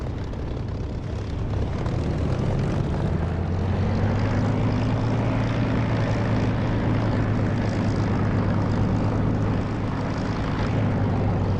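A propeller aircraft in the flight simulator DCS takes off from the runway with a loud, continuous engine drone whose low hum rises in pitch as power builds, and no voices.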